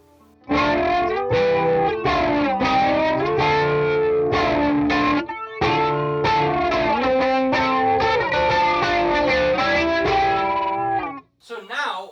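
An electric guitar plays loud, continuous phrases through an MXR EVH117 flanger pedal's fast sweeping effect, with a brief gap midway and a short tail at the end.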